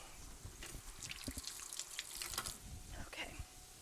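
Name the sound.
water running from a tap while washing hands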